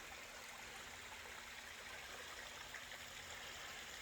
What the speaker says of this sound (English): Beautiful babbling creek running beside the trail here.